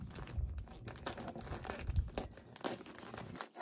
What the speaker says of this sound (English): I can get my scissors in here, cut across.